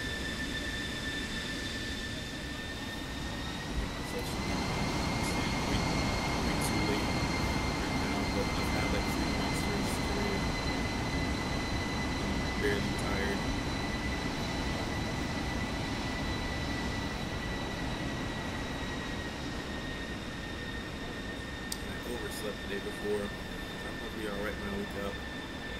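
A military aircraft taxies in the DCS flight simulator with a steady engine roar and a high, sustained turbine whine, while a voice talks intermittently over it.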